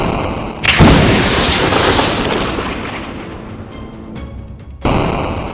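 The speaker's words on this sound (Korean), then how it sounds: "폭발은" Big explosion effect, a sudden loud boom with a deep rumble that rolls on for several seconds and slowly fades, then a second heavy burst at the end.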